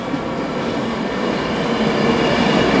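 A train rumbles steadily and loudly nearby at a station platform in Stockport, England, with a broad, rushing wheel and rail noise that swells slightly, with no voices.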